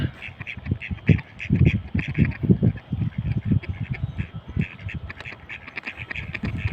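A group of Pekin ducks in a park in Poland quacks steadily and busily up close, many overlapping calls following in quick succession with no break.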